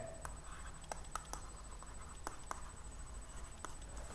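A pen scratches out short strokes while a math problem about circle quadrants is worked, the quiet taps and scratches coming at an irregular pace over a faint steady hum.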